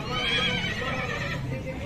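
A horse at a horse market gives a loud, close whinny that wavers and trails off over a couple of seconds.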